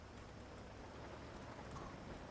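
Rain and a thunderstorm in the video game BRM5, a dense, steady wash of rainfall with a low rumbling undertone, even and fairly faint throughout, no voices.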